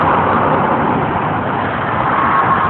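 Steady roar of busy downtown traffic on a city street in Charlotte, North Carolina, a loud, continuous wash of engines and tires with no pauses or distinct passes.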